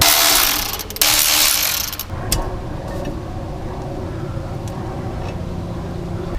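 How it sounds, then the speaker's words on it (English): Ratchet wrench working the thermostat gooseneck bolts on a 1973 Scout II, a busy clicking rattle and metallic scraping up close at first, then easing into a lower steady mechanical rumble. "we're going to be unbolting the top, I guess, gooseneck, if you want to call it that, right here."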